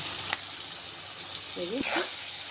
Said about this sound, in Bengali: এই মশলাটা দিয়ে ভালোভাবে কষিয়ে নিচ্ছি